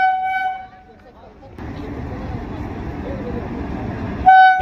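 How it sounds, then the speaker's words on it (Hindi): Train arriving at an Indian railway station, its horn sounding steady tooting blasts at the start and again at the end, with a low rumbling approach and platform noise in between. "देखिए ट्रेन भी आ चुकी है।"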